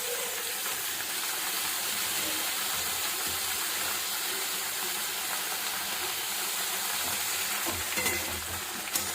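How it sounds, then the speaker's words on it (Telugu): Eggplant pieces frying with onions in a pan for vangi bath, giving a steady, dense sizzle with crackling and occasional stirring scrapes, close and continuous throughout. "కట్ చేసి పెట్టుకున్న వాంగిబాత్ వంకాయలు వేసుకొని అవి కొంచెం సాఫ్ట్ అయ్యేంత వరకు ఉడికించుకోవాలి, వేయించుకోవాలి"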